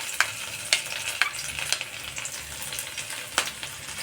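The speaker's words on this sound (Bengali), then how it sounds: "এবার আমি এর মধ্যে গরম তেলের মধ্যে দিয়ে দিলাম রসুন কুচোগুলো" Chopped garlic fries in hot oil with a steady crackling sizzle, punctuated by several sharp, close clicks of a utensil stirring against the pan.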